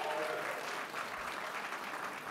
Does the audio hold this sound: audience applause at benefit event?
yes